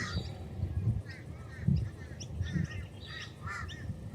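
Several crows call in short, scattered caws at a distance over a low background rumble.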